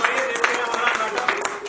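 Audience applause at a Hindi comedy stage play, a dense patter of many hands clapping at moderate level for a brief burst, with a voice faintly underneath.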